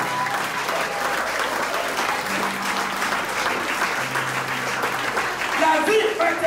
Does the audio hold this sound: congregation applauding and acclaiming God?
yes